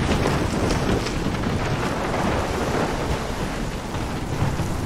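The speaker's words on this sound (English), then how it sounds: "I've never seen a storm like this in Oregon." Thunderstorm with heavy rain in the video game Life is Strange, a steady dense roar of rainfall and rumbling thunder, loud and continuous throughout with no pauses.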